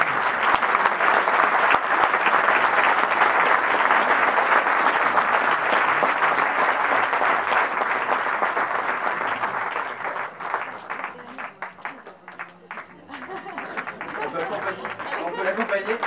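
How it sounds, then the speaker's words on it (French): Sustained applause from an audience at a film screening and Q&A, loud and dense for about ten seconds before thinning out into scattered claps and murmuring voices. "on peut l'applaudir maintenant"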